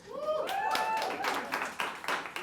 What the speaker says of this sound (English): Applause is definitely appreciated.